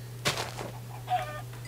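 Chickens in a video game, two short clucks roughly a second apart, faint over a steady low hum, with no voice.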